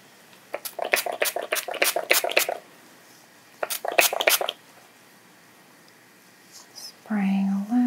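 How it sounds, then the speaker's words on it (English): Water with a little product in it is spritzed onto hair during an ASMR scalp treatment: two close runs of quick hissing spray pumps, a pause, then a soft whispered voice. "spraying a little bit of water."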